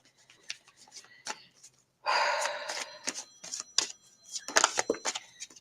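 Chakra oracle cards being shuffled by hand, a few soft riffling bursts and rustles, with one louder stretch of card friction in the middle, close and fairly quiet, with no talking.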